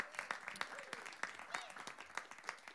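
Audience applause at a concert following a jazz solo, faint and distant, with scattered distinct claps standing out irregularly and brief voices faintly mixed in.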